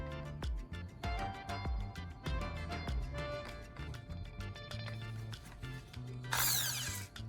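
A carbon rod clamped and spinning in a drill chuck gives rapid mechanical whirring and clicking bursts, with a bright hissing scrape near the end.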